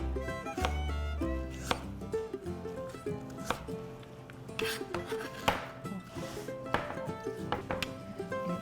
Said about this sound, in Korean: 당근도 조금 큼직큼직하게, 조금 전에 다진 것보다는 조금 크게 썰어 볼게요.